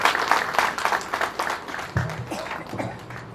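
An audience gives a warm round of clapping to welcome Dr. I.K. Vijaliwala onstage at a talk. The sharp, uneven claps swell early, then thin out as a voice begins speaking over the fading applause.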